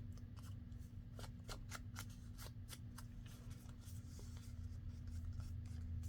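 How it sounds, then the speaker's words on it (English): Scissors snip steadily through a paper envelope, a rapid series of crisp cuts up close over a low steady background hum at a quiet craft desk. "And I can just trim this off right here."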